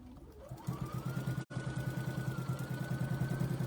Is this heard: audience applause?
no